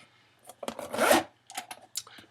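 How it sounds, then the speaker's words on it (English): The zipper on the back of an Omega Ranger cosplay suit is pulled up in a few short, rasping strokes, close and quiet, with small fabric rustles between pulls. "it zips up from the back"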